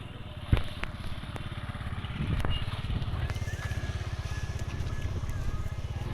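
A motorcycle engine idles with a steady, rapid low throb on a field during heavy rain, close and continuous after a sharp knock near the start.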